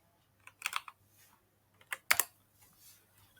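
Several short bursts of typing on a computer keyboard, quick clusters of light clicks separated by pauses, close and fairly quiet in an otherwise silent room.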